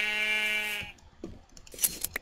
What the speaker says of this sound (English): I'm just gonna go around clipping these sheep.